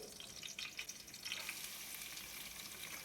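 Onions and green chillies fry in oil with a faint, soft sizzle and light crackle, steady and quiet, with occasional small stirring sounds.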